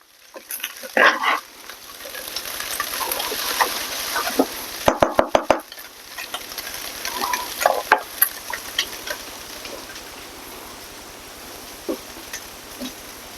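Breakfast sausage sizzling in a pan while a spatula scrapes and stirs it, a steady close crackle broken by a quick run of sharp metallic taps and scattered clinks.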